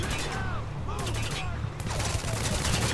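Video game gunfire rattles in rapid, continuous bursts, loud and close, with a voice speaking over the shooting.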